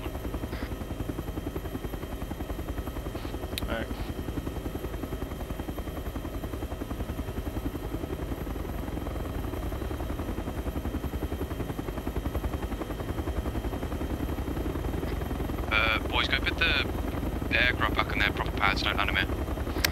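A helicopter landing in the ArmA 3 Vietnam-era game gives a steady rotor and engine drone throughout, with bursts of distant gunfire crackling near the end.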